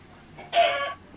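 A Minecraft chicken gives one short, close cluck, standing alone against faint background noise.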